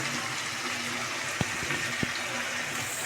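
Water pours into a pan of mixed vegetable curry, a steady soft gushing splash with a couple of faint clinks, close and fairly quiet, no talking.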